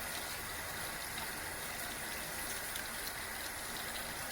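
Tap water runs steadily while a makeup brush is rinsed under it, a dense, even hiss and splash close by with no pauses.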